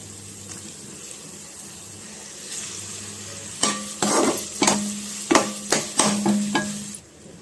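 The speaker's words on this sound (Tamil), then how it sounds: "வெங்காயம் வந்து நல்லா வதக்கிக்கலாம்" Onions, ginger garlic paste and tomato sautéing in a pan for restaurant-style ghee rice: a low steady sizzle, then a run of sharp clattering stirs and scrapes, loud and close, over the last few seconds.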